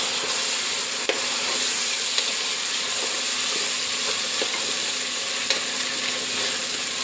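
Tomato pieces fry and are stirred into a mutton liver curry, giving a steady, close sizzle with faint scraping of the spoon running throughout, no voices.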